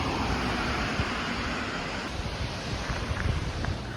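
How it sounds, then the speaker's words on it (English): Steady rushing roar of a waterfall, a dense continuous wash of water noise close to the microphone with some wind buffeting and no voices. "stopping by this beautiful waterfall."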